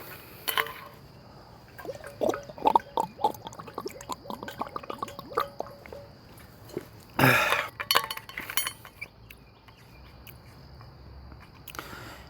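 Glass and dishes clink sharply in scattered bursts as water is fetched and poured, with a louder clatter midway, over a faint steady background hum.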